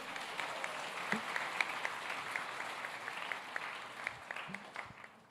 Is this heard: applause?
yes